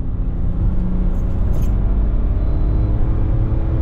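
A BMW 535d engine with a Stage 2 tune idles with a steady low rumble and hum, constant and close, with a brief faint jingle partway through.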